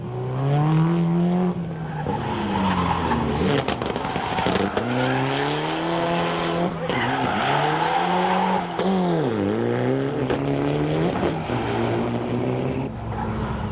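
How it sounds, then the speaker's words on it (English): Volkswagen rally cars on a stage ahead of forest stages at Longmoor, engines howling and revving loud and close with tyres squealing and skidding through turns, continuous for the whole stretch. "With tortured tyres screaming in protest at the abuse meted out of them"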